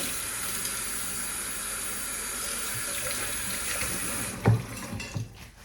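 Steady running lukewarm tap water pours into a sink, rinsing vintage crystals, a continuous hiss for several seconds before it stops, followed by a few small clunks and drips.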